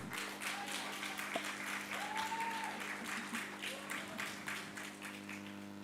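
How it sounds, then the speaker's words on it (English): Applause from the audience at a national investment quiz competition quarter-final, steady clapping over a constant hum of the hall's sound system, with faint voices underneath. "Clap for them."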